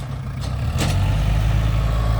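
An L5018 tractor's engine runs steadily while pushing dirt into a pond, a loud continuous low rumble with a couple of brief sharper bursts early on and no talking.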